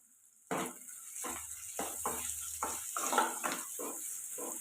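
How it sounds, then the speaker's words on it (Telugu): Onions frying in oil with curry leaves for an egg curry: a steady close sizzle broken by repeated scraping bursts as a spoon stirs the pan, with no voices. "ఉల్లిపాయలు అయితే ఇలా ఫ్రై అయ్యాయి కదండి"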